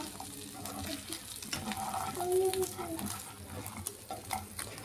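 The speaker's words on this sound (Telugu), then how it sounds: "ఇప్పుడు వీటిని మిక్స్ చేసేసుకుందాం" Mutton being stirred with garam masala in a pan, giving a soft sizzle with scraping and wet stirring sounds, close and moderately quiet, briefly rising in the middle.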